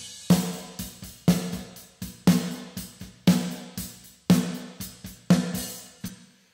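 Snare drum struck alone through a Stocktronics RX4000 plate reverb set to 2.5 seconds: sharp hits in a loose repeating pattern, each followed by a bright, splashy decaying wash.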